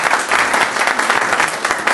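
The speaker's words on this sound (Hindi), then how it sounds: "तो सूरज खान साहब के लिए भरपूर एक दफा ताली होनी चाहिए" An audience claps loudly for the classical musician Suraj Khan, a dense, continuous burst of applause from a crowd at close range, with no speech over it.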